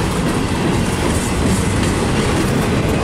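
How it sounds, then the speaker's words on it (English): A train rolls past on railway tracks close by, a loud, steady rumble with rattling wheel clatter that fills the whole stretch without a break. "now a train's coming"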